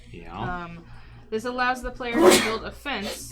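A person sneezes sharply once amid a group's conversation while they learn a housing-themed board game, with talk before and after.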